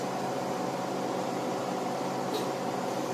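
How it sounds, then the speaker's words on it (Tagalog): Cooling blower of a power amplifier running loudly, a steady broadband whooshing roar close by and unbroken from start to finish. "ang ingay talaga ng blower ng mga ganitong amplifier."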